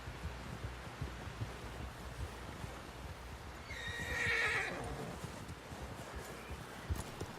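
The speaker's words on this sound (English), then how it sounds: "Someone help John down off this horse." A horse in Red Dead Redemption 2 gives a single loud whinny midway, rising above a low rumbling game ambience with soft hoof-like thuds, no talk over it.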